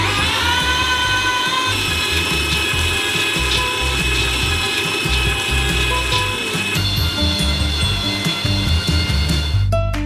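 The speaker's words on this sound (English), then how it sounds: "We transfer them into a meat grinder. And grind them through a small nozzle." A meat grinder forces nuts through a small nozzle for a giant homemade Kinder Bueno, giving a steady loud mechanical whine and grinding rattle that runs unbroken for about ten seconds.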